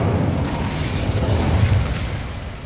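Casting the Incendio fire spell in Hogwarts Legacy produces a loud, sustained whooshing roar of flame with a rumbling low end, lasting a few seconds without a break.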